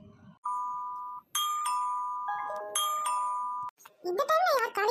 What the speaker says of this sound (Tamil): இந்த டைம்ல யார் காலிங் பெல் அடிக்கிறா?